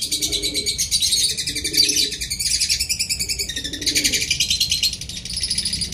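Pet cockatiels, lovebirds and finches chirp and tweet continuously in rapid, bright bursts close by, with a softer cooing underneath.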